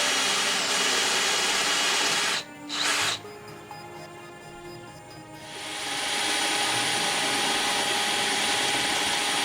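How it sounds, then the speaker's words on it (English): A power drill bores holes through a model train layout for wiring, its whine running steadily from about two and a half to five seconds, set between stretches of loud broadband noise. "Now we have to start drilling holes to allow the wiring to go underneath the layout."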